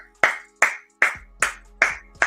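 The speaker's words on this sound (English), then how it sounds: "can we clap it up for Cass?" Six sharp, slow claps ring out one after another at an even pace, each crisp and close with a short echoing tail.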